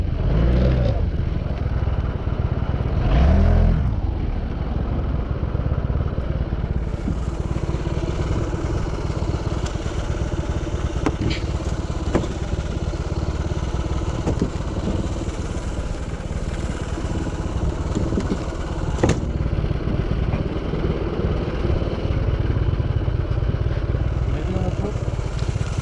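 Honda PCX scooter ridden on the road on a long trip, a steady engine drone with wind rush and road rumble, loud and constant, with a few brief clicks along the way.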